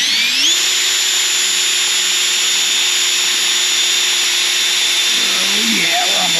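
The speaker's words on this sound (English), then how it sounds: "I'm gonna push to the side and drill it" A power drill runs continuously with a steady high whine, loud and close, while drilling during installation of a Grundfos 11SQF-2 solar pump system in Bristow, Oklahoma; its pitch shifts slightly near the end.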